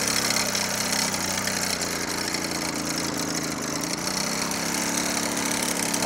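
Motorcycle engine running loud and close just after starting on a cold, rainy ride, a dense, steady mechanical roar that holds throughout.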